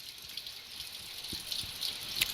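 Water is squirted down a lead-fouled gun barrel during cleaning, giving a steady soft hiss and splashy trickle with a few brief drips near the end, fairly quiet and close, with no voices.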